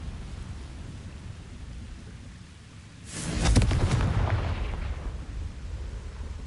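A Confringo fire blast spell detonates in Hogwarts Legacy, a single broadband explosive burst with a low rumbling boom that swells and then slowly decays over a steady ambient background.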